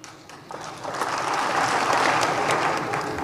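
Audience at a political speech in India bursts into clapping, starting thinner and swelling to a steady, dense wash of applause that holds to the end.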